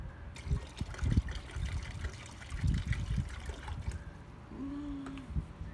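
Water pours and splashes into a container in a children's sink-or-float play setting, coming in uneven gushes and trickles at close range, with brief pauses between pours.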